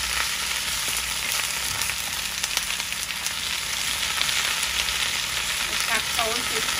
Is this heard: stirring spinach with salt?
yes